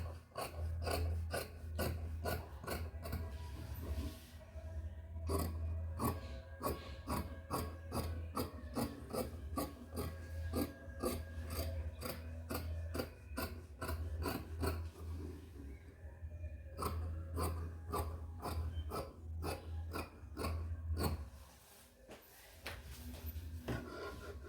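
Scissors cut through blouse fabric for aari embroidery work in a steady run of close, crisp rasping snips, with brief pauses and quiet talk in the background.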